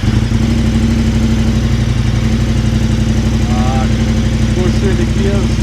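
KTM 1290 motorcycle engine idling steadily and loudly up close in neutral gear, a constant throbbing rumble with no pauses.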